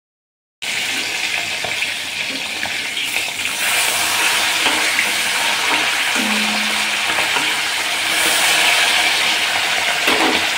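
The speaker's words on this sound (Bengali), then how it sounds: "বাটা মাছটা ভালো করে ধুয়ে নুন হলুদ মাখিয়ে নিয়েছি, এবার ভাজা বসাবো" Bata fish, washed and rubbed with salt and turmeric, frying in a pan for a village-style Bengali fish curry: a loud, steady hiss and crackle of hot oil that begins abruptly and continues unbroken, with no talk.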